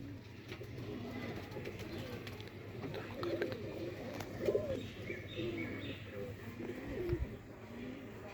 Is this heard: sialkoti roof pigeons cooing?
yes